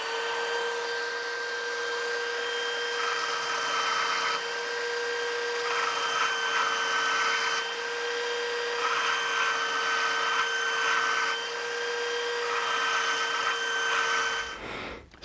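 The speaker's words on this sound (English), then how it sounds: "I've got my belt sander just in my vise here, and I'm able to turn this thing on and keep it on" A belt sander clamped in a vise runs continuously, a loud, steady whine over a rushing abrasive hiss that stays even for about fourteen seconds before abruptly cutting off.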